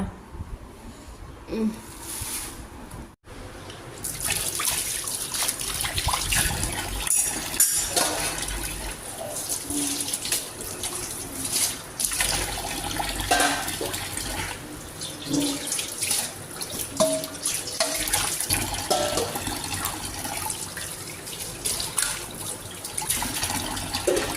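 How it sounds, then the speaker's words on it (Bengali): Dishes are washed by hand under a running kitchen tap. After a brief quiet start, water gushes continuously and loudly, with clinks and splashes of plates scattered through it. "থালা বাসনের আমার ভর্তি, এগুলো ধুই এখন"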